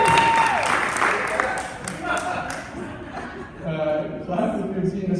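Audience in a black box theater applauds and chuckles during a celebration for a theater teacher, a scattered crowd clapping with light laughter, moderately loud and steady.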